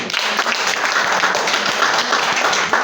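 A crowd at a school sports event claps in a steady burst of applause, dense and even throughout, with faint voices underneath.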